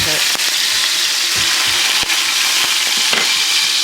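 Minced garlic sizzles loudly in hot oil in a pan while shrimp scampi is being prepared, a constant close crackling hiss broken by a few sharp pops and soft stirring clicks.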